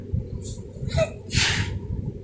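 One short, sharp sneeze-like burst of breath rises out of quiet murmuring, with a brief softer breathy sound just before it.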